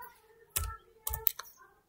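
Typing on a computer keyboard at a PC, a handful of sharp, close key clicks arriving in small irregular bursts separated by short quiet gaps, with no speech.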